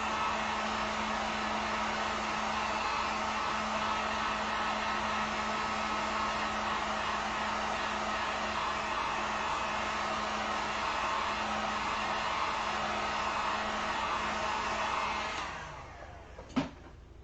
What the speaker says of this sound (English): use the heat gun real quick. I'm gonna heat that up nice and dry here.